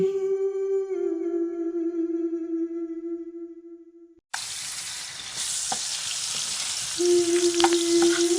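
Cartoon kitchen frying: after a sustained tonal hum cuts out, a loud broad hiss of food sizzling in a pan fills the rest, steady and close, with a low tone returning near the end and no talk.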